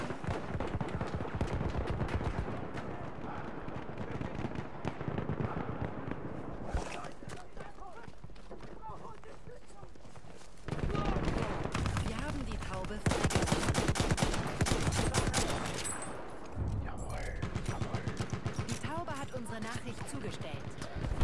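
Semi-automatic rifle shots from the World War I shooter Battlefield 1, heard as repeated sharp cracks amid dense battlefield noise of other gunfire and explosions, with someone talking over much of it.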